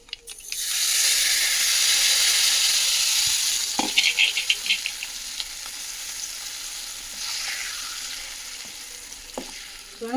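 Tempering spices frying in a pan for a green chilli tamarind chutney, a loud, steady sizzle that rises quickly, then a patch of crackling pops before settling to a softer hiss.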